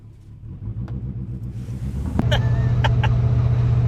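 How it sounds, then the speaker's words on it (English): A 24-year-old Chevrolet Silverado with no rear drive shaft tries a burnout. Its engine rumbles at idle, then revs up into a loud, steady, close roar. "Will she do a burnout?"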